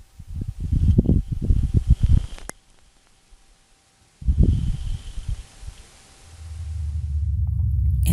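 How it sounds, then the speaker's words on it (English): A dust devil on Mars picked up by the Perseverance rover's microphones: two bursts of gusty, rustling low rumble, separated by a quiet gap, and then a steadier rising wind-like roar at the end. "This is the actual audio of a Martian dust devil."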